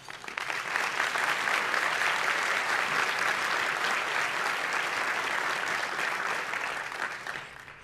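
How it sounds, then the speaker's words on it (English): An event audience gives sponsors a warm round of applause, a steady, full burst of clapping from many hands that holds for several seconds before tapering off. "please give them a warm round of applause"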